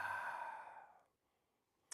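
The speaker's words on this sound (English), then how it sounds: "exhale out your mouth" A long breath exhaled out through the mouth during a seated yoga session, a soft airy whoosh that fades out over about a second, followed by near silence and a faint click at the end.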